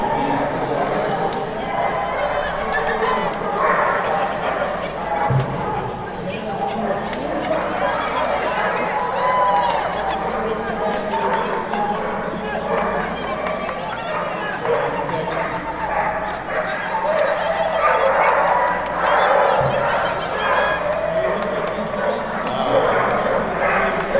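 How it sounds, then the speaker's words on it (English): Dock dogs at an outdoor show, with a crowd murmuring and cheering throughout and scattered barking and water splashes mixed in under the noise. "dock dogs always seem to draw a crowd, even if the dog doesn't want to get wet."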